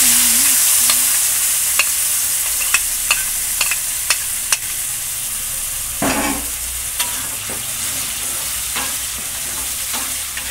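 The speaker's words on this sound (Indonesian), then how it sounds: "Nah, ini minyaknya udah panas. Langsung aja ya kita tumis bumbunya." Blended spice paste sautéing in hot oil, a loud continuous close sizzle punctuated by sharp spoon taps and occasional scraping stirs, with no talking.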